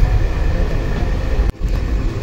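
Train rumbling steadily into a depot station near Lamding on a line in Assam, a loud continuous low roar and rattle from inside the carriage, with a brief sharp dip in the noise partway through.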